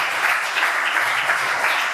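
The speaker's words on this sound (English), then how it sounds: "So everybody, round of applause for Farhad over here." Audience clapping for the painter Farhad at a network anniversary meet-up, a dense, loud burst of applause filling the room, steady and close, with no talk over it.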